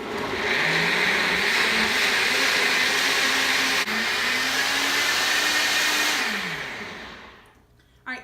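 High-speed blender whirring through a creamy vegan mac and cheese sauce, a loud sustained motor whine that steps up in pitch, then winds down and stops near the end, followed by a brief clunk.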